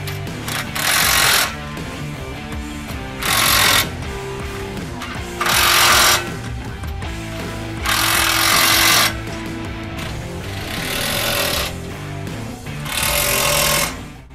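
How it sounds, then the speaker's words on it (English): A power tool tightens the ladder bolts on a 2015+ Ford Transit mid/high-roof DRIFTR roof rack, running in about six loud, close bursts of whirring and rattling hammering, each roughly a second long, separated by brief pauses. "The last thing we have to do is tighten down where the ladder actually bolts to the roof rack."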